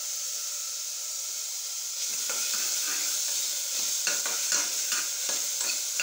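Tomatoes and chillies sauté in a hot pan for a mutton curry, a steady sizzle and hiss that grows louder partway through, with scraping stirs breaking in now and then.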